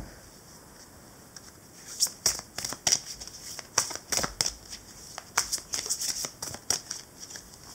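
Oracle cards shuffled and handled by hand in a quiet room: a rapid run of crisp riffles and papery flicks begins after a short pause and comes in uneven bursts, close and fairly soft, with no voice.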